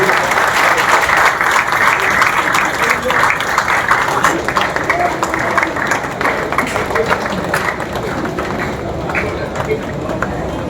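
An audience applauds at a Valand community honour ceremony in Bhavnagar for Manharbhai Rathod, with loud, sustained crowd clapping that fades slightly toward the end, mixed with a busy hall.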